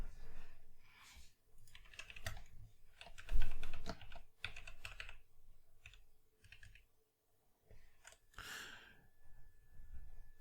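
Someone typing an address into customer software on a computer keyboard: soft, uneven runs of key clicks close by, with short pauses between bursts.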